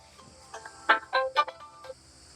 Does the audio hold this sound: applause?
no